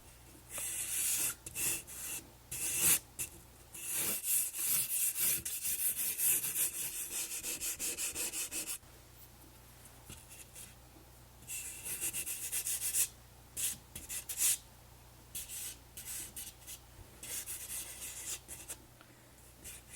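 Pencil sketching hands on paper, soft close scratchy strokes in bursts of rapid back-and-forth shading, pausing briefly midway before resuming, with no talking.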